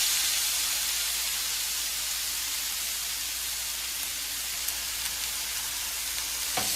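Flank steak searing on a hot grill pan for a reverse sear, giving a steady, even sizzle and hiss that holds at a constant level throughout, close and alone with no talk.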